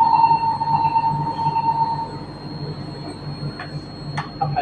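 A Sentosa Express monorail train departing a station in Sentosa hums steadily with a sustained electric whine, then fades while brief high chimes or squeals ring out near the end.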